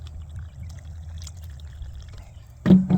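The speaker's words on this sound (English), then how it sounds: "it's just dripping out the bottom, so they've had a good soak" A watering can pours water onto tomato seedlings, a strong close gush of liquid arriving suddenly near the end after a quiet low hum.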